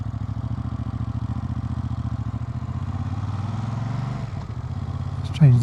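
A Ducati Multistrada V2S 2025 motorcycle engine idles with a rapid, even pulsing throb and mechanical clatter. Near the end it revs sharply upward.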